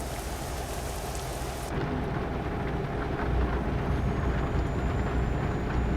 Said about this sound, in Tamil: பார்த்தீங்களா, மழை நல்லா பெய்யுதுங்க பாருங்க.